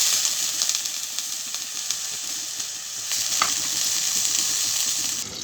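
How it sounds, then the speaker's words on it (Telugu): Tomatoes fry in a hot pan for a spicy chutney, giving a steady loud sizzle and hiss that runs without a break, with faint stirring scrapes underneath and no talking. "ఇప్పుడు టమాటాలు వేసుకుందాం టమాటాలు కొంచెం అంత వేగినాక"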